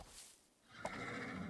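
A horse in the Barbie Dreamhouse Adventures video game gives a short synthetic neigh, a bright whinny rising over a low rumble, quiet and close with no speech.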